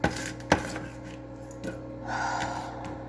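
A knife chops onion on a cutting board in a home kitchen, with two sharp, close knocks spaced apart and a few softer taps amid low room noise.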